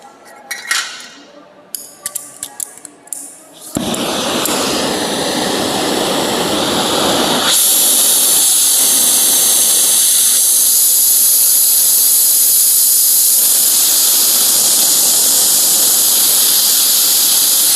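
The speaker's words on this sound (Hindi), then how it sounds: "यहाँ देख रहे हैं कि हम जब गैस वेल्डिंग कर रहे हैं" A gas welding torch roars with a loud, steady hiss that starts abruptly after a few seconds of faint clinking and handling, then continues unbroken and close, shifting to a brighter, harsher tone partway through.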